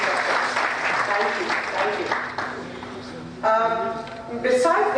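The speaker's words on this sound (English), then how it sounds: "If you can clap for the proposition." Audience at a debate claps for the proposition side, a steady round of applause with a voice speaking over part of it.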